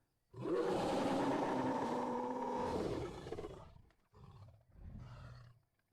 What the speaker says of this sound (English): A roar, deep, rolling, and ancient, pushes through the cool air, traveling nearly 8 kilometers across the plains.